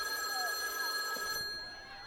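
A telephone bell rings in a steady, sustained trill for over a second and then stops, leaving faint room noise behind.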